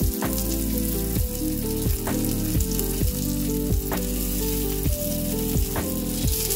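Chicken seekh kebabs cook in a pan, a loud close sizzle with a repeating rhythm of regular clicks and sharp drops, as if from a pressure or steam cycle, steady throughout with no speech.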